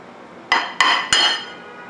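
Beaten eggs with buttermilk and citrus zest are mixed in a bowl, and three sharp clinks of a utensil striking the bowl ring out in quick succession, up close and without talking.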